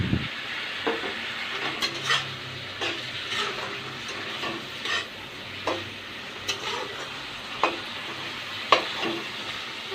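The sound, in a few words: potatoes being added and fried in a pan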